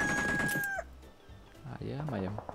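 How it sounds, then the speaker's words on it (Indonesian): Chickens in the battle game Free Fire give a short burst of clucking and crowing-like calls, followed by a few more fowl sounds after a quiet gap, with game noise and a voice briefly present. "Ayam ayam."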